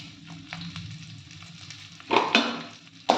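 Green chilli, ginger and curry leaves sizzle steadily in hot oil while a spoon stirs them, with a few sharper scraping clatters of the utensil against the pan near the end.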